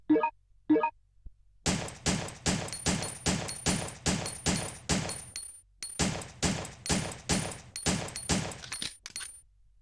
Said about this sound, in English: let's test the Handgun C out